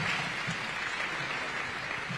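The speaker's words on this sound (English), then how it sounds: "A round of applause for our panel." An audience applauds a panel at a formal event. The clapping is faint and distant, a continuous soft patter with no voices over it.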